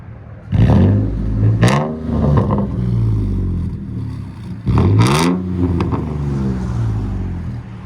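A 2005 Nissan Frontier 4.0L V6 with straight-pipe duals revs loudly and close up, with two sharp throttle blips climbing and falling back to a rumbling idle between them.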